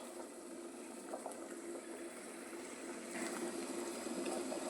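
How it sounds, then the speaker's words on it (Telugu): Jaggery melting in a pan bubbles with a faint, steady simmering sound that grows slightly louder toward the end. "చూడండి ఎలా కరుగుతుందో బెల్లం"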